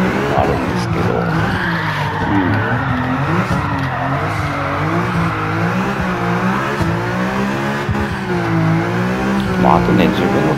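A Greddy Fugu Z with a drift setup in Gran Turismo 7 drifts with a loud, wavering engine whine and sustained tire squeal that rises and falls continuously, while a person talks over it.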